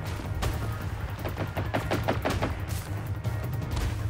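Gunfire in the Generation Zero video game, a distant rapid burst of muffled shots over a low continuous rumble of background game noise, no talking.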